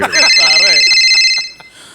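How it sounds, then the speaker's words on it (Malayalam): A telephone rings with a loud, high, steady electronic tone that sounds for about a second and a half, heard under a voice speaking over it before the ring cuts off. "ഫോൺ ഉണ്ട് സാറേ"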